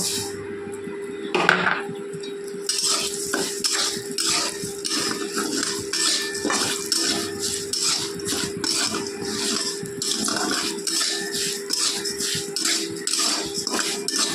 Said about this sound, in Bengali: এখন এই তেলের মধ্যে এখানে আমি হাফ কাপ গোবিন্দভোগ চাল নিয়ে নিয়েছি এটাকে এখন ভেজে নেব